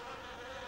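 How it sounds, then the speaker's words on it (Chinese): Chinese honey bees at an apiary, a dense steady buzzing hum of many insects close by, continuous and moderately loud, with no talk over it. "这个就是活的，叫我们学名叫中华蜜蜂"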